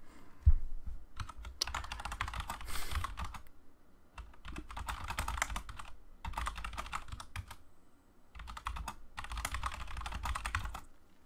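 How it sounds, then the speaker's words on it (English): Fast typing on a computer keyboard during a StarCraft II match broadcast, heard as dense clattering bursts separated by short pauses. The keys sound loud and close, with no one talking. "Oh, I was typing."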